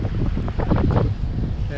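Gusty wind buffets the microphone in a loud, rumbling roar over rolling water in New York Harbor, with a hint of water noise underneath and no clear talk.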